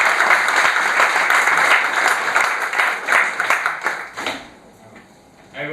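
An audience at a meeting in Surat applauds to welcome an honoured guest: dense, steady clapping that continues for about four seconds, then thins out and fades into quiet.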